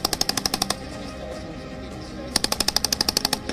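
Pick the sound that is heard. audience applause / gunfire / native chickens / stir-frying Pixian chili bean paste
gunfire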